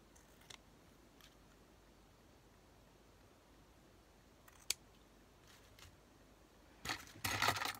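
A paper card for a handmade 3D greeting card being cut with scissors, a few faint isolated snips and one sharp click, then a louder burst of crisp rustling cuts at the end in an otherwise quiet room.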